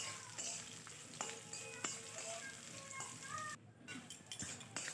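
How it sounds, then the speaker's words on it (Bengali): Chopped onions fry in a pan until reddened, giving a soft, steady sizzling hiss. Occasional light clinks of a stirring utensil break through the sizzle. "পেঁয়াজগুলো একটু লাল করে ভেজে নেব।"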